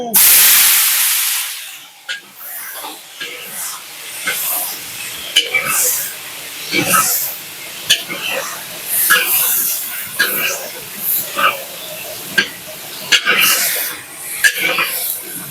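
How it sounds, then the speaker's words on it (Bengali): Potatoes fry in oil in a village kitchen, a hissing sizzle under repeated stirring and scraping, while people talk in the background. "এবার বাঁধাকপির আলুটা এই তেলেই ভেজে নেবো"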